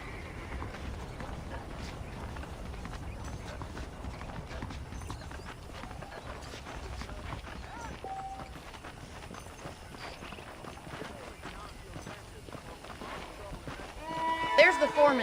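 Horse hooves clip-clopping in the Western video game Red Dead Redemption, a steady walking rhythm of light hoof strikes under continuous game ambience, ending in a louder burst near the close.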